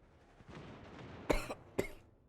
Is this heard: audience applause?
no